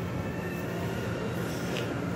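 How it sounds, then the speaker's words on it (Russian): A train arriving at a station, heard as a steady low rumble with a rising high squeal of wheels and brakes, continuous and moderately loud over the short stretch. "Ага, едет мой поезд."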